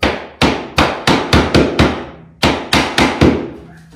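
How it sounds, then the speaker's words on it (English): A hammer taps laminate flooring seams tight in a bedroom remodel, with a series of sharp, loud, close knocks in two quick bursts of six and four, separated by a brief pause, each ringing out slightly. "Couple of taps with a hammer here and there are going to make your life a lot easier when it comes to making these seams fit tightly."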